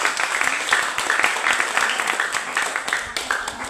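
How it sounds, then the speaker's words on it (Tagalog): A church congregation claps together during a sermon, producing dense, continuous applause of many hands throughout with an even, crowded patter and no pause. "Palakpak para sa Diyos."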